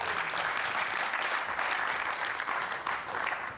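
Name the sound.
congregation applauding in church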